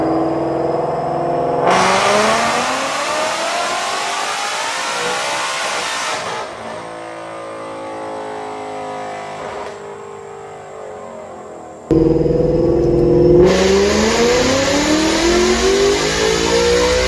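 Whipple 10-rib supercharged car engine revving hard on a chassis dyno, two long loud sweeping pulls with rising pitch and a steady supercharger whine, a brief lull between them, no talking.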